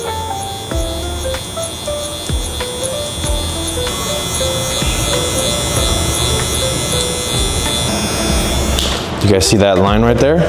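Electric hair clippers buzz steadily up close as they cut hair for a low-taper buzz cut, with faint crunching of the blade through hair. Someone talks over the hum.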